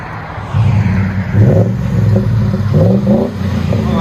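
A 2013 Ford F-150 FX4 with a 5.0L Coyote V8 and Magnaflow performance muffler revving close by, a deep rumbling exhaust rising and falling through several throttle blips.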